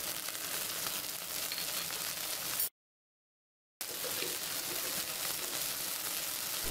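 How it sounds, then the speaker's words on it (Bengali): Ginger-garlic paste with red chilli and turmeric powder frying in a little oil, a soft steady sizzle broken by a brief silent gap, then resuming at the same low level, no talking. "স্বাদ মতো লবণ দিয়ে নাড়াচাড়া করে মশলাটা কষিয়ে নেব"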